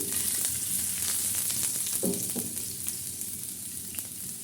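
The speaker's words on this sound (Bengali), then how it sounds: "এখন দিয়ে দেবো রসুন কুচি" Chopped garlic sizzles in hot oil for a tempering of raw mango dal, a steady close frying hiss with a couple of brief stirring scrapes midway.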